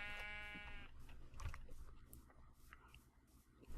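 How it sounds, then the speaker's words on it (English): A sheep in the video game Minecraft gives one short wavering bleat, faint and close, followed by quiet background rustle and clicks. "Look at that sheep."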